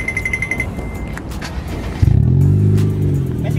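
A Honda Brio with an HKS aftermarket exhaust and swapped mid resonator, heard close: a quiet stretch with faint clicks gives way to a firm idle and rising rev around the two-second mark, then holds a steady drone.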